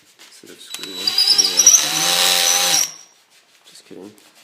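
A power drill runs alone for about two seconds, held steady as it works a stripped screw-in insert nut hole in a pedestal table, with brief speech before and after.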